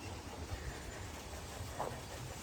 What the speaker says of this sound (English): there's another train on the bridge above us